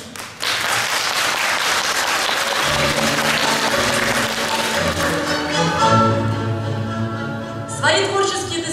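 Audience applause at a reporting concert of Children's Music School No. 5 in Lipetsk, held at the Sokol House of Culture, rings out loudly for several seconds and then fades as a voice begins speaking.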